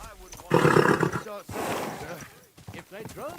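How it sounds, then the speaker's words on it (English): Horses neighing in a video game, a loud roaring whinny followed by a second rougher neigh and clattering hooves, with people talking around them. "It's horses."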